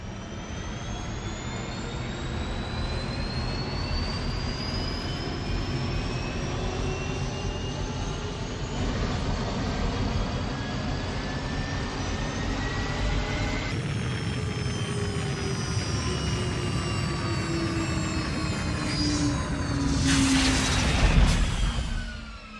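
A jet aircraft's engines roar steadily while coming in to land, a loud continuous whine with a rising pitch sweep, swelling louder toward the end as it passes close.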